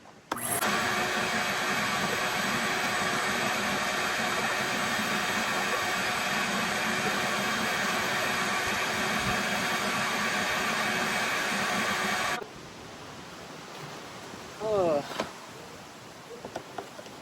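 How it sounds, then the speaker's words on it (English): A shop vacuum cleaner runs loud and steady while cleaning out a Nissan 280ZX Turbo barn find in a driveway, its constant whine cutting off abruptly near the end and leaving quieter background noise. "Turn the vacuum on and hopefully get some of the shit out of it."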